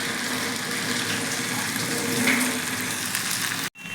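Potato bhaji frying in oil over a low gas flame, a steady close hiss and crackle throughout, cutting off abruptly near the end.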